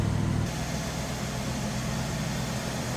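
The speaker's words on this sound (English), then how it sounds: "let me let this warm up. We'll check it out on low idle" A 1976 Lincoln Mk IV with a 460 V8 idling while it warms up, a steady low rumble with a faint hum, constant and even, with a slight drop in pitch early on.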